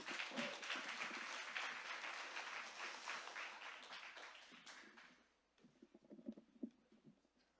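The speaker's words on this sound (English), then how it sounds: "Give them a round of applause." Audience applause at an indie game showcase in Portland, a sustained clapping crowd that gradually fades, followed by a few scattered claps and faint murmurs.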